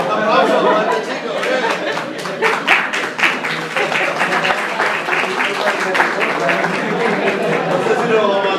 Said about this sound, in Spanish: ¡Un aplauso para este chico!